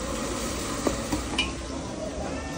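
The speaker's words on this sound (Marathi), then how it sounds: "आता कांदा टाकलाय आणि फक्त कोकम टाकलाय." Onion and kokum frying in a pan while being stirred, a steady close sizzle broken by a few soft scrapes and clinks of the spoon against the pan.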